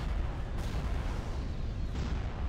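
Starship weapons firing in the space strategy game AOTR, a steady rumbling barrage of booming blasts that runs without pause, with one louder burst near the start and another near the end.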